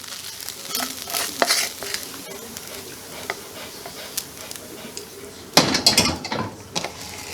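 Pork fried rice stir-fried in a pan, with a steady sizzle and scattered scraping stirs, a louder burst of clatter and sizzle near the end, and no talking.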